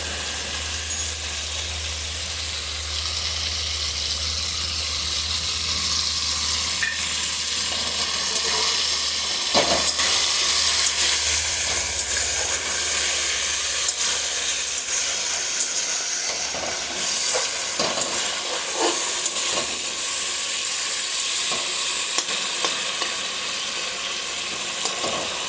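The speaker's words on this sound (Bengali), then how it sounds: "এই পর্যায়ে আমি এখন দিয়ে দেব কাজু বাদাম বাটাটা।" Cashew paste frying and being stirred in a pan for a vegetarian bottle gourd kofta, a steady sizzling hiss with occasional scraping stirs, continuous and close.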